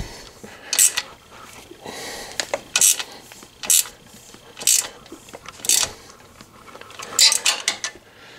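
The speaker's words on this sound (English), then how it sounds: "if you got a wrench, a hex on the other side, use the hex nut to tighten" Wrench tightening the crash bar bracket bolts on a Honda Africa Twin CRF1000L, heard as a run of about seven sharp metallic ratcheting clicks in spaced bursts, close and fairly loud, with no talk.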